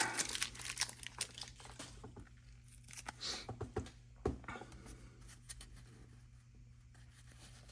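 Close, quiet crinkling and tearing of a vintage baseball card pack wrapper as it is peeled open, in short irregular bursts that taper off into soft rustles.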